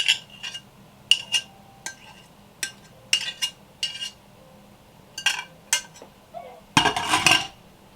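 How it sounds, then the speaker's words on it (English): Soft butter being mixed into a bowl for a blueberry buckle, with a series of sharp clinks and taps of a utensil against the bowl roughly every half second, then a louder burst of scraping near the end. "we're going to just stir it around and mix it all in"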